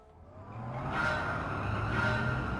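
A Xiaomi SU7 Ultra driving the Nürburgring in Gran Turismo 7, its steady motor drone and tire noise swelling as the car accelerates, moderately quiet and continuous with no talk.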